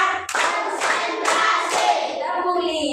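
Children in a classroom lesson clap their hands in a counted rhythm, several sharp, loud group claps in a row, each ringing briefly before the next, with no talk.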